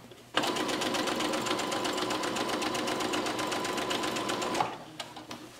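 Sewing machine stitching the lining side of a basic Christmas stocking, one steady, fast, even run of stitches lasting about four seconds, close and clear, followed by a few faint handling clicks.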